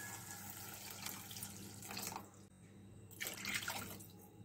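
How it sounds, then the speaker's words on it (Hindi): Water poured into a cooking pot of spiced, frying dalia splashes in two rushing bursts, close and moderately loud, with a quieter gurgling lull between them. "इसमें हम पानी डाल देंगे।"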